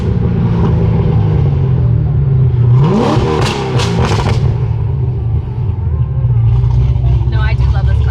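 A loud BMW M3 engine rumbles steadily, then revs up in a sharp rising sweep before settling back to a heavy idle-like drone, with voices present over the engine noise.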